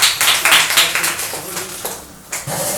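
A class claps for a student's performance, with brisk close hand claps that taper off and then pick up again briefly.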